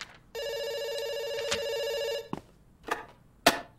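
A telephone rings once in a long electronic trill, then stops, followed by a few brief clicks and knocks nearby.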